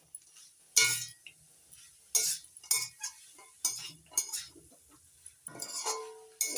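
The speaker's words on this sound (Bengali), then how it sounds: "এবার নাড়াচাড়া করে মিশিয়ে নেব।" Beetroot, carrot and peas being stirred in a pan: a metal spoon scrapes and clinks in irregular bursts, close and fairly loud, with short quiet gaps between strokes.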